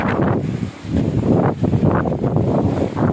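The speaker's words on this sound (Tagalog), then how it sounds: "Ano, lakas ng hangin, oh." Strong wind from Typhoon Kristine roars and buffets the microphone in heavy gusts, loud and continuous, with a brief lull partway through.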